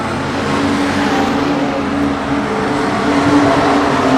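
Street stock race cars lapping a dirt oval at Redline Raceway during an Australian title heat, a loud continuous engine roar with no clear pass-bys, heard without commentary.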